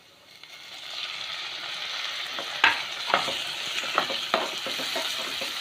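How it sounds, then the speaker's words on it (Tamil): Tomatoes go into a frying pan already holding red and green chillies for a vallarai keerai thuvaiyal, rising into a steady sizzle with a few distinct scraping stirs of a spatula. "இப்போ தக்காளி ஆட் பண்ணிக்கலாம்."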